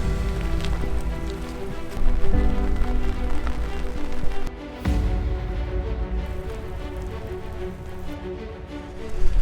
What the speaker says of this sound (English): It's just been kind of raining and drizzling all day.